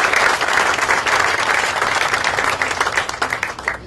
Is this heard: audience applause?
yes